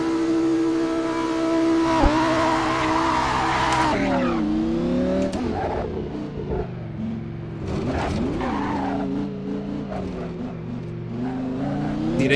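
Lamborghini Gallardo GT3 racing in a hillclimb rally sprint video game, its engine droning loud and steady with shifting revs, tires skidding and squealing through corners, continuous and close throughout.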